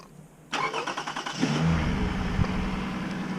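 A Toyota car engine cranks briefly and catches, settling into a steady running idle close by after a quiet start.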